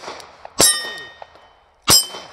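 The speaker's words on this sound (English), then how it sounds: "Oh, what fun it is to shoot steel with my CZ all day." Two pistol shots from a CZ handgun strike steel targets, each a loud, sharp crack with a bright ringing metallic clang that decays over a second, about 1.3 seconds apart, with a faint ping between them.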